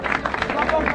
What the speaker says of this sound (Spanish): ¡Mano por los aplausos!